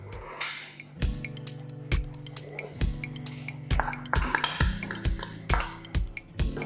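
A metal utensil scrapes and clinks repeatedly against a metal pot of boiled water and baking soda while making crispy milk tofu, in a steady, uneven rhythm, close and fairly loud.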